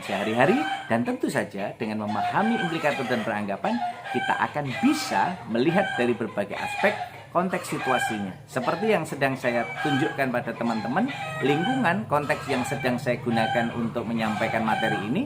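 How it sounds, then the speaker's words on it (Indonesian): A rooster crows in a village, close and loud enough to stand out, with clucks among the harmonic calls. It runs beneath steady talking throughout, and other birds are implied nearby in the rural setting. "Ada suara ayam berkokok, ada suara burung yang berkicau."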